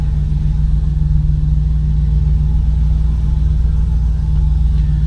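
A 1981 Oldsmobile 98 Regency's engine idles with a low, steady rumble and hum, even and unchanging, close by with no voices.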